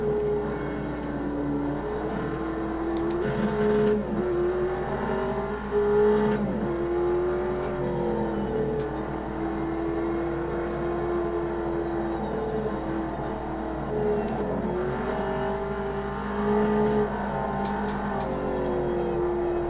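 A modded race car engine in the Automobilista 2 racing game drones steadily, its pitch rising and falling as it revs and shifts, loud and continuous with no voices.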